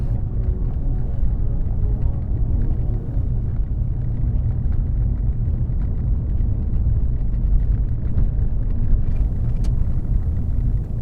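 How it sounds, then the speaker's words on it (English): Continuous low rumbling road noise of a car driving on a well-maintained dirt track in the Australian outback, a dense steady drone from inside the vehicle with no one speaking. "It wasn't a long drive, maybe 40 kilometres or so, on a well-maintained dirt track"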